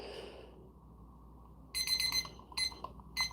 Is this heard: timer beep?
yes